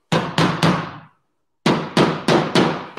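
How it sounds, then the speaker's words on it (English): A hammer strikes sheet metal on an anvil in a workshop while dollying a pinch seam, three sharp ringing blows, a pause, then four more in steady rhythm, close and loud. "I like to use my hammer at this point. My anvil,"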